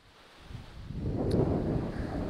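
Strong wind blows across a microphone at outdoor copper mine ruins in Michigan's Upper Peninsula, a low rumbling rush that builds over the first second and then stays steady and fairly loud, with no talk.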